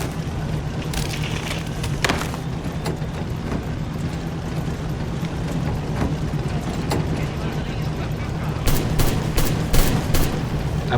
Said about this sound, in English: That's anti-aircraft rapid fire, I think.